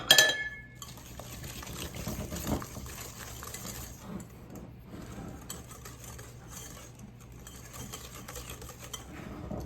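Eggs going into a keto brownie batter in a home kitchen: a sharp clink of shell or utensil on a bowl at the start, then soft wet sloshing and light clatter of dishes, close and quiet, with no voices.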